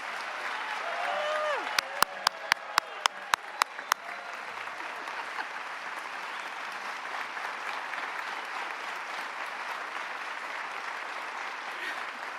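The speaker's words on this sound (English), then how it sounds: "let's have one more big round of applause for all the graduates" A graduation ceremony crowd claps steadily at moderate distance, sustained applause with a few sharp nearby claps standing out early on.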